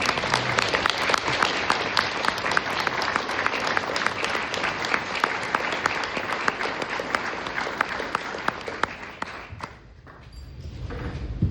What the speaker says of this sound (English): Could we please clap?